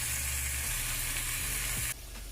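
Saltfish (codfish) seasoned with black pepper sizzles and fries in a pan, a steady bright crackle that holds loud and close before dropping slightly near the end.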